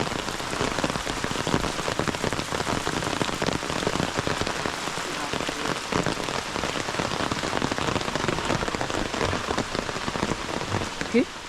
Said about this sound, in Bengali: আর এখন কিন্তু আবার বৃষ্টি নেমে গেছে অলরেডি ভালো বৃষ্টি হচ্ছে